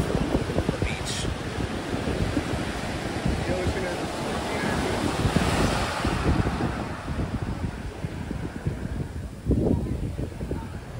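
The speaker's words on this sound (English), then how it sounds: "we can just enjoy the beauty and the serenity of the beach" Ocean surf washes steadily onto a Malibu beach, a continuous broadband roar of breaking waves with gusts of wind buffeting the microphone throughout.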